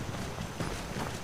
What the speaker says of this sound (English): That is a beautiful horse.